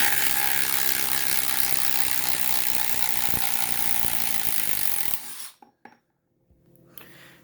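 A Milwaukee M12 Fuel second-generation brushless impact driver backs a screw out of wood with a loud, continuous rapid hammering whir for about five seconds. It then stops, leaving faint handling clicks.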